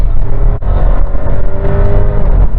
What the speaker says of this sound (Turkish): Şimdi aracı spor moduna aldım. Evet dip gaz yaptığımda